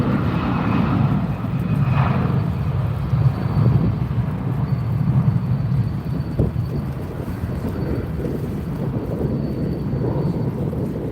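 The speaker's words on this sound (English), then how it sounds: "This is Sri Lankan Airlines taking off." A Sri Lankan Airlines airliner takes off at Sydney International Airport, a steady, loud low-pitched jet roar rumbling continuously from nearby with no voices over it.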